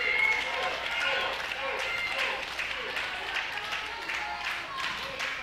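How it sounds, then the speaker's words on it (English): A crowd at an indie wrestling show claps in support of a wrestler, a steady, moderately distant patter running under a commentator's continuous talk. "Everybody here is clapping, showing their support."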